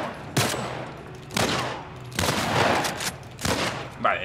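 Gunshots ring out in The Last of Us Remake on PS5: about five sharp, separate shots spaced roughly a second apart at moderate loudness, with one longer burst in the middle.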